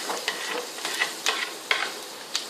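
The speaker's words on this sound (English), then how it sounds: "I've got this electric fry pan on quite high." Onions with grated carrot and zucchini sizzle in an electric fry pan set quite high, a loud, close hiss broken by repeated sharp stirring scrapes.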